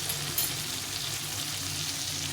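Turmeric, cumin and chili powder frying in a pan with a little water for a catla fish curry with eggplant and tomato, giving a steady, close, hissing sizzle that stays even throughout.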